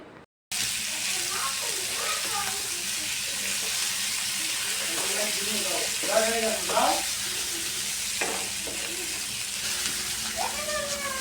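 Broiler chicken fries in a pan of oil with a continuous, even sizzle that runs throughout, while a voice talks over the cooking.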